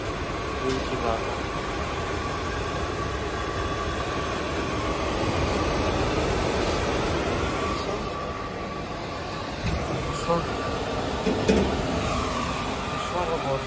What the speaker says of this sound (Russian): И запустился вентилятор.